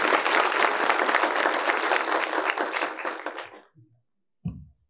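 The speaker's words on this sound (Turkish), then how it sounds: "Bir alkışı da onlara." Applause from an academic conference audience at a university obesity event, for a team of eighteen, dense and loud for about four seconds before stopping abruptly, followed by a short low thump.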